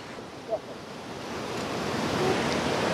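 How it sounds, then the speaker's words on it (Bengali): A roadside mountain waterfall on the way from Manebhanjan to Tunglu gives a steady, broad rush of falling and splashing water that swells slightly over a few seconds, with wind buffeting the microphone. "দেখো একটা কি সুন্দর ঝর্ণা, ঝর্ণার জলের ছিটা আসছে"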